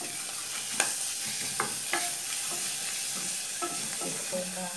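Two garlic cloves frying in a pan while cooking chicken with ginger, a steady soft sizzle with a few sharp clicks from stirring utensils, fairly quiet and close, with no talking.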